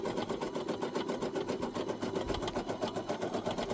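A Brother SE1900 embroidery machine stitches a fabric coffee coaster with a fast, even, pulsing chatter of the needle, running continuously at moderate volume with no voices.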